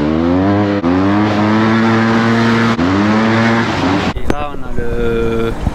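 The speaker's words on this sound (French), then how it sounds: "je mets juste un petit coup de gaz, la roue elle patine" A modified Yamaha TMAX 560 scooter revs hard near the listener, its engine note rising and holding loud and steady before a sharp drop and a quieter idle at the end.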